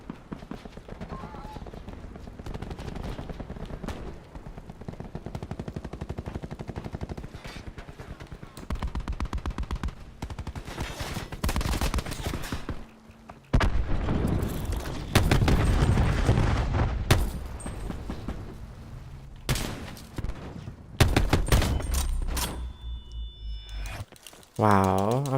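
Sniper rifle shots and other gunfire in a Call of Duty Black Ops 4 Heist match, sharp bursts and booms packed densely over the whole stretch at fairly loud level, with talk over the top.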